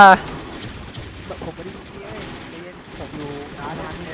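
Video game gunfire in repeated bursts of rapid shots, fairly close, with a voice talking over it.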